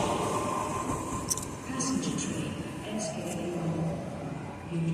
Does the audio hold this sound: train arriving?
yes